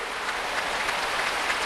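Congregation applause fills a large church during a Pentecost service at Yoido Full Gospel Church, a broad, even patter of many clapping hands, moderately loud and unbroken.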